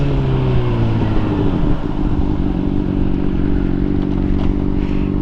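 Motorcycle riding on freshly fitted new tires, a steady engine drone with shifting harmonic pitch as it accelerates, loud and close throughout with road and wind rumble, no talking.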